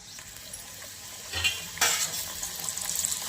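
Bhatura dough deep-frying in hot oil for chole bhature, a steady bubbling sizzle that swells loudly around the middle as the dough goes in, with faint stirring clinks; no talking.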